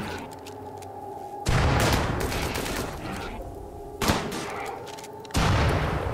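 Bursts of gunfire in RimWorld fired at a centipede: three loud, abrupt volleys separated by quieter stretches, each opening with a sharp crack and rumbling on afterward.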